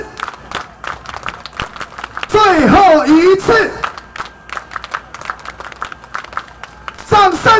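An audience claps in the quick patterned 'love encouragement' rhythm at a live show, loud bursts of sharp hand claps alternating with a presenter's voice speaking over and between them.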